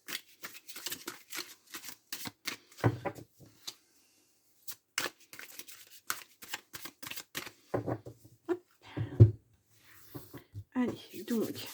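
Tarot cards being shuffled by hand, a run of crisp rustling riffles and soft slaps in irregular bursts, close up, with occasional pauses.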